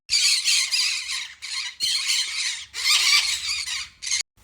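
Conure parrots squawk nearby in long, loud, shrill bursts that repeat with short gaps between them, and nobody talks.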